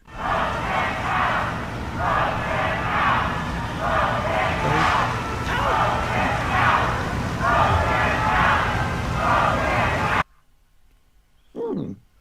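A crowd outside the Supreme Court reacting, a loud sustained chant in repeated rhythmic bursts for about ten seconds, then a sudden cut to near silence with a brief voice.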